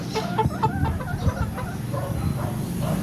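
Three-month-old golden boy chickens cluck steadily in a dense, continuous flock chorus, with overlapping calls close by and no talk.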